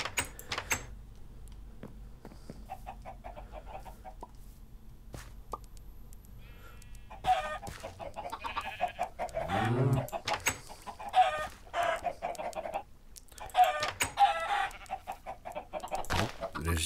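Chickens cluck repeatedly in a video game scene, a rooster-like call rising above intermittent clatter and game noise, the clucks clustering and growing busier toward the end.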